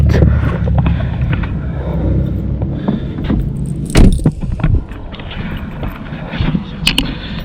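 On a Mercedes W203, the red bonnet release lever is pulled and the bonnet is lifted open. Close mechanical clunks and a metallic clack come over a low background hum, followed by lighter rattles and taps.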